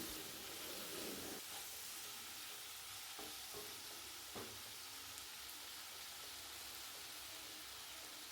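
Tomato chutney with rock salt sautés in a pan, a faint continuous sizzle broken by a few soft stirring knocks, with no voices.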